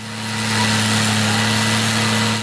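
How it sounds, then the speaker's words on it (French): Powerful road milling machines planing off the worn surface of an old motorway pavement during resurfacing works, a loud steady engine drone with strong low hum that swells in and fades slightly, no talk. "Elle consiste à retirer la couche usée de l'ancienne chaussée à l'aide de puissantes fraiseuses qui découpent le revêtement avec une précision millimétrée."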